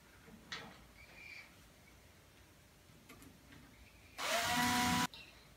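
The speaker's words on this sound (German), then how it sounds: "Mit 2 Edelstahlschrauben schrauben wir das zusammen." Parts of a MiniPlus beehive box being joined with two stainless steel screws: a few faint clicks, then a single loud whirring burst of about a second from the driving, with no talk.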